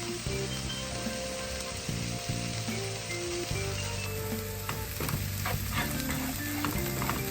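Vegetables sizzle steadily in a hot pan, a loud continuous frying hiss with occasional stirring clatter.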